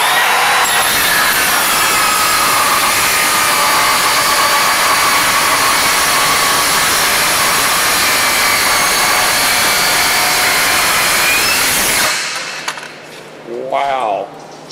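A Diablo saw blade cross cuts half-inch-thick steel with a loud, continuous grinding whine lasting about twelve seconds, then it stops abruptly and a voice speaks briefly.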